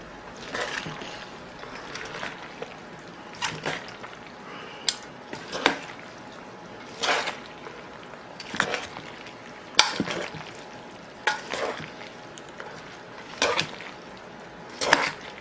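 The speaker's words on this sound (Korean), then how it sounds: "여기에 고추를 넣고 고추를 다 넣고 양념으로 버무려 보겠습니다" Fermented chili peppers are tossed and mixed into a thick seasoning paste in a bowl, giving a string of irregular wet squelches and soft clatters, close and fairly quiet, with no talk.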